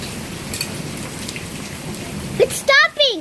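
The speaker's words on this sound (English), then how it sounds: "It's not raining that bad anymore." Steady rain falling on surfaces outdoors during a hailstorm, a continuous patter that gives way near the end to a person's voice speaking close by.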